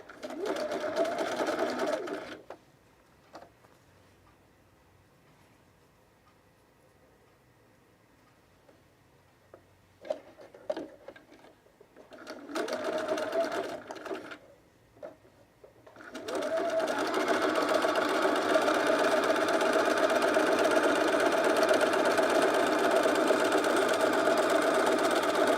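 Sewing machine running a cover stitch on underwear elastic, starting in short bursts and then stitching steadily and loudly for about ten seconds, with a brief run at the very start.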